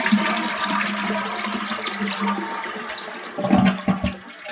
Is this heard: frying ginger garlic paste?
no